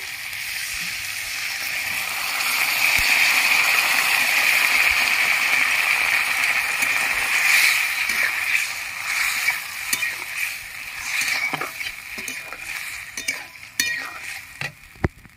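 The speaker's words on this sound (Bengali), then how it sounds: "সোয়া সস আর চিলি সস আমি একসাথে ভালো করে মিশিয়ে নিয়েছি। এবার আমি ঢেলে দিচ্ছি।" Soy and chilli sauce poured into a hot frying pan with fried jackfruit, a steady loud sizzle for several seconds, then sharp scraping stirs of a spatula against the pan, with no talking.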